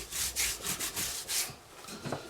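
Spice rub being worked into a rack of ribs by hand, heard as close, dry scraping and rubbing strokes in an irregular rhythm, fairly loud with no talking.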